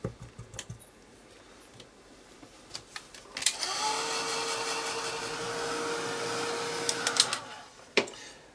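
A heat tool blows steadily for about four seconds while drying painted flames on a mixed media shadowbox canvas, a loud close whirring hiss that starts abruptly and cuts off, with light handling clicks around it.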